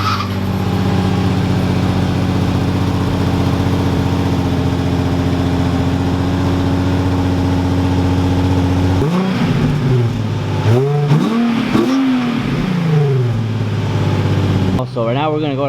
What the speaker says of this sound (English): Right now we're gonna record the cold start so you guys can get an idea of what it sounds like right now.